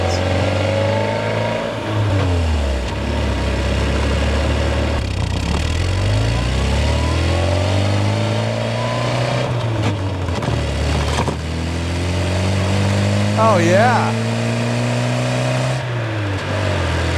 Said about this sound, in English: let's go ahead and get this thing on the road and take this Mini Moke for a drive